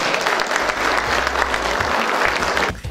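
Steady applause from an audience at an engineering ceremony in Cusco, dense and loud throughout before cutting off sharply at the end.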